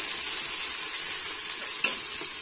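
Onions, mint, fenugreek leaves and green chillies fry in a pot, a dense continuous sizzle, loud and close, with a single brief utensil scrape near the end.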